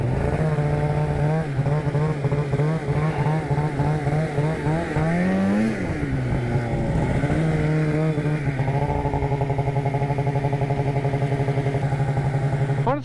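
An RMK snowmobile engine revs hard under a finger throttle, a loud, close, buzzing drone whose pitch climbs, dips and swells again throughout.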